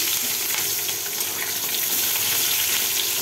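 Cubed potato and a green chilli frying in a pan with tempering spices, a loud, dense, continuous sizzle heard up close and unbroken.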